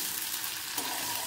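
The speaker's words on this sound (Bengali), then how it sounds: "আদাটা যখন একটু হালকা ভাজা ভাজা হয়ে আসবে" Ginger paste fries in a pan, giving a continuous close sizzle with a brief stirring scrape partway through.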